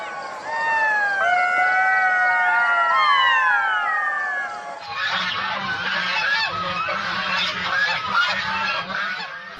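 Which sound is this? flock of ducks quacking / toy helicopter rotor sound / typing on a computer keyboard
flock of ducks quacking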